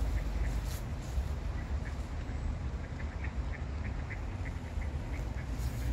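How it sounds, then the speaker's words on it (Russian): Ducks in an autumn park quack in short, faint calls that repeat at an uneven rhythm from some distance, over a steady low outdoor rumble. "Челсик, уточки тебе понравились?"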